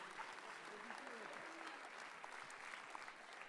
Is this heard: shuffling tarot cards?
no